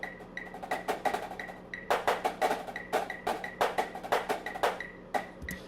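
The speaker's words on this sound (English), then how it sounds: "So the snare feature sounds like this." A snare drum feature from a composed, high school level track: crisp snare hits in quick syncopated rolls and accents, close and prominent, over a faint sustained backing tone.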